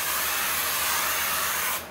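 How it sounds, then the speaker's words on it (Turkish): Kate Somerville makeup setting spray with SPF 50 misted from a pump bottle, one continuous close, breathy hiss lasting nearly two seconds before cutting off abruptly, alone with no talking. "Makyaj sabitleyici spreyi ve SPF 50'sini."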